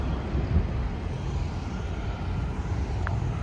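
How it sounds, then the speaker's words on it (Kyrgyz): Airplanes flying overhead at an air show give a steady, broad roar with a low rumble, heard from a truck stop, continuous and moderately loud without voices. "Самолеттер шоулда учуп атышат."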